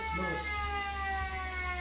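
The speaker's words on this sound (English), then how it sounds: "There's the three-quarter time siren." The three-quarter time siren at a country Australian rules football semi-final sounds as a loud, sustained, steady electric wail that fills the whole moment, with faint crowd or commentary noise beneath it.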